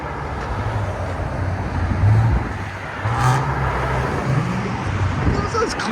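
A stock-sounding Infiniti Q60 with a 3.0L twin turbo V6 and its exhaust valves closed drives by outdoors, a low, fairly quiet engine drone that swells and fades, with people talking over it.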